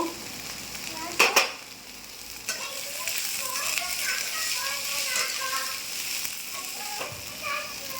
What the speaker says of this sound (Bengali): এবার এই যে বাঁধাকপি দিলাম, বাঁধাকপি দিলাম, 2 মিনিট নাড়বো।